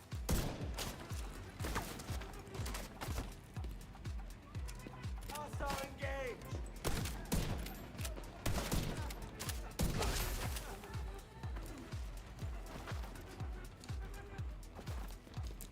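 Rapid, repeated gunshots from a Virginian 1886 rifle in the shooter game The Division 2, loud and close, sounding in a dense series throughout alongside busy in-game action noise.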